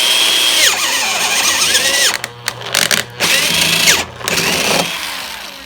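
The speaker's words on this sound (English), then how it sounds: "you're going to drill the hole as straight as you can" Power drill boring a straight hole through the wall of a plastic rain barrel about four inches up, a loud whining drive that rises and falls with several brief stops and restarts, no voices.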